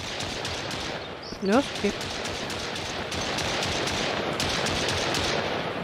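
Enemy gunfire in the survival game Mist Survival, rapid bursts of shots crackling continuously at close range, with a brief spoken remark in between.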